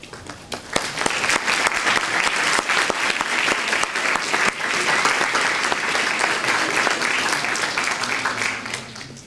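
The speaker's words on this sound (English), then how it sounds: "give them a round of applause for all the planning that went into" A lecture audience gives a sustained round of applause, dense and even clapping from many hands that carries on steadily and stays loud throughout.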